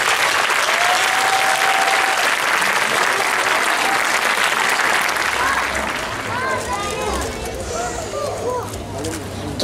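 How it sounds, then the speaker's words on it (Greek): A theatre audience at a municipal theatre workshop performance breaks into warm applause, a loud sustained wall of clapping that thins into scattered claps and murmuring voices in the final seconds. "Να τους δώσουμε το πιο θερμό χειροκρότημα μέσα από την ψυχή μας."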